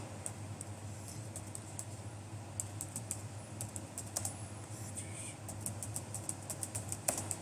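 Typing on a computer keyboard, a quiet run of light, irregular key taps over a low steady hum, with no talking.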